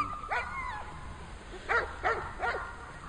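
A dog gives a few short, yelping barks, one early and three in quick succession, at moderate distance over steady outdoor background.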